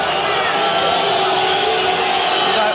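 A boxing arena crowd roars as a fighter walks from the dressing room to the ring, a loud, dense, unbroken wall of cheering and shouting voices.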